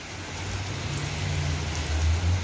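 Heavy rain pours down in Kuwait, a dense, steady hiss of drops hitting surfaces, close and loud throughout with a low rumbling undertone.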